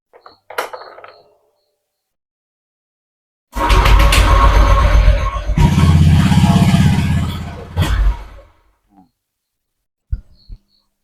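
Motorcycle with a faulty ISP that won't idle: the engine cranks and catches, revs loudly for a few seconds, surges again and then dies, followed by quiet and a couple of short starter bursts, close to the listener with no talking.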